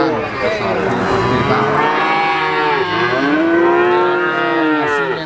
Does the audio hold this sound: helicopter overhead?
no